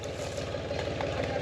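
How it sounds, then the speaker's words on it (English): A tractor engine idles steadily with a low, even chugging beat, fairly close and moderately loud, while a box blade works the ground. "Yeah, and Kevin, his first time on a tractor, he's out there with the box blade smoothing things out."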